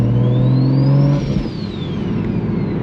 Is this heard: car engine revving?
yes